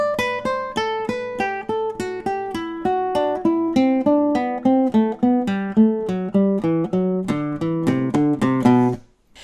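Flamenco guitar plays a Phrygian scale exercise in descending order, a steady run of clear plucked notes stepping down in pitch, close and loud with no talking, ending with a brief fade.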